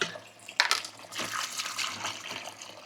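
Water splashing as cut string beans and squash are washed, a steady wet sloshing with a sharper splash early on, fairly close and without speech.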